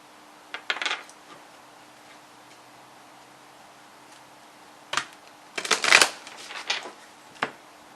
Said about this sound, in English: So I'm going to pull some more cards here.